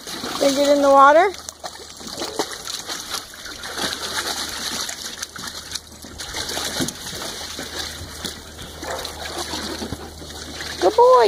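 A dog splashes in pool water, with sloshing, dribbling water through the clip and another dog nearby; a person talks briefly at the start and end, and a whine-like tone appears at the edges.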